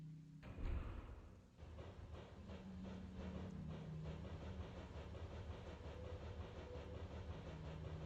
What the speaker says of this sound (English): Train number 1 is a really useful means of transport to get about Zone 1.